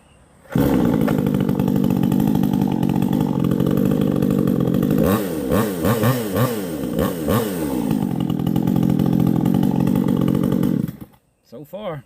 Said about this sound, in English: it sure is a loud chainsaw, bud. I'll start it again for you.